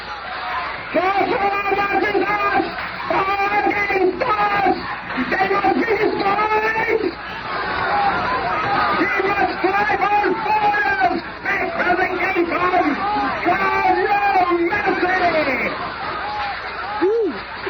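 An angry crowd at a rally in a Fantastic Four radio drama, many voices shouting and jeering over one another in loud, continuous waves with brief lulls.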